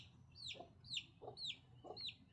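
Backyard chickens in a coop run clucking in a steady repeating pattern, about four calls in a row, moderately quiet with no talking.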